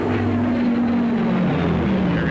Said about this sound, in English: A dangerous all-purpose aircraft. Or the Heinkel 111K.